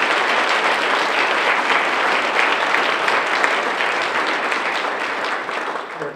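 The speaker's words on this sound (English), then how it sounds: "please join me in a round of applause for all the sponsors" Audience applause for sponsors at a school event, a full, even wash of many hands clapping at once, holding steady and loud for about six seconds before tapering slightly at the end, no talking.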